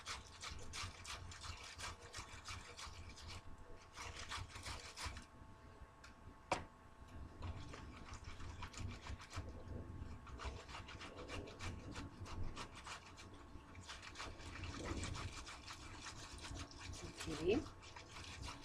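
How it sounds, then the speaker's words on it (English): Tomatoes being rubbed against a kitchen grater make a continuous, faint, rapid scraping and rasping that runs steadily throughout, with a voice talking quietly underneath. "Rub your tomato on the grater."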